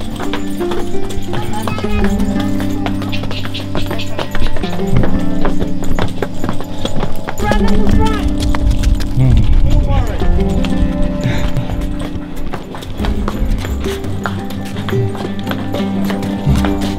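Hooves clip-clop steadily on a mule and donkey ride through Petra, Jordan, a continuous close rhythmic clatter lasting throughout, mixed with talk and background noise.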